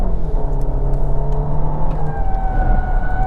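A 2025 Volkswagen Tiguan SE accelerating up an interstate on-ramp, a loud steady engine drone with rising tone and road roar heard from inside the cabin, no talking.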